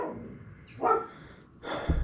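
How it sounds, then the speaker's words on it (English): A few short dog barks sound in the background while a 2019 Harley-Davidson Road Glide gets a DynoJet AutoTune install, two separate bursts at moderate distance. "So there are dogs barking in the background."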